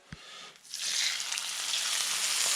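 A piece of whiting fish lands in a hot pan and settles into a steady, close sizzle of frying that holds evenly after a brief clatter.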